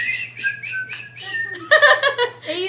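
A person whistles a tune from Snow White, a clear melodic line of sustained and gliding notes, followed by a burst of giggling laughter near the end.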